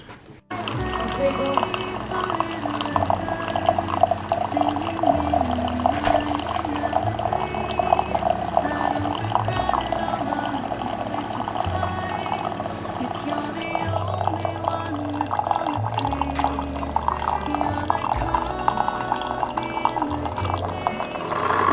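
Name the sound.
coffee maker brewing and pouring 8 ounces of coffee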